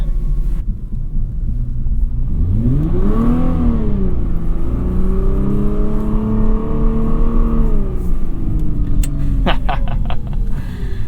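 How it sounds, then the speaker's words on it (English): A Nissan GT-R's engine hums and revs in rising and falling sweeps while the car does donuts, loud and close, with a brief burst of rapid clicks near the end. "It's nice just kind of having the sonorous hum of the GT-R doing donuts in the background."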